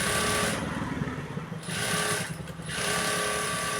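A sewing machine stitching a blouse runs in close, loud mechanical bursts with a rapid chattering rhythm, pausing briefly twice between runs, with no talking.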